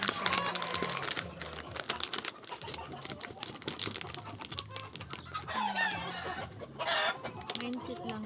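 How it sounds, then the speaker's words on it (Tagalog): Chickens cluck repeatedly around the recording, a busy flock sound with occasional crinkling noises and a faint voice underneath. "Ang daming manok dito sa akin. Sa aking alaga."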